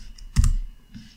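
Brief burst of keystrokes on a computer keyboard, a couple of close clicks and taps with a quiet pause between them.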